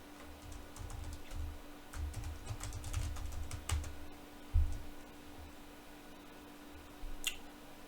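Password typed on a computer keyboard during an ESXi 8.0 install on a Lenovo ST550 server: quick bursts of close, crisp key clicks with short pauses and a louder key strike, over a steady low hum.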